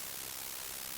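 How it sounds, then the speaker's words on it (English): Steady broadband white noise from a Bitwig synthesizer, its volume pushed by an LFO modulation, hissing continuously at an even level with no clear gaps or pulses. "there's not much difference between the basic white noise and the amount of volume above white noise that the LFO is pushing it"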